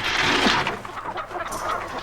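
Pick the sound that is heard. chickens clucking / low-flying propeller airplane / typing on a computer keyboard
chickens clucking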